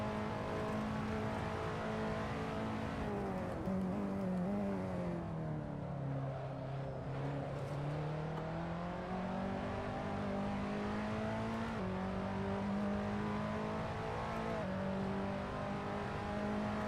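KTM X-Bow GT4 race car in a racing simulator at Summit Point, its engine droning steadily and loudly throughout, pitch dipping and then climbing again as it revs through gears, with no talk.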